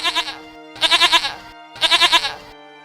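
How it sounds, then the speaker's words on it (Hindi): A goat bleats three times in quick succession, each cry loud, close and wavering, with short silent gaps between them and no talking. "अचानक मेरे मुंह से बकरे की आवाज आने लगी"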